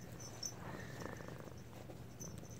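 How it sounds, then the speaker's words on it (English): A pet cat purrs steadily and softly up close in a quiet indoor room, a continuous low rumbling purr with no talking. "I hear you purring."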